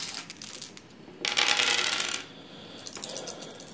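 Dice rattling across a table during an X-Wing tabletop miniatures game: one close, bright clattering burst lasting under a second, then a faint scatter as the dice settle, with no talk.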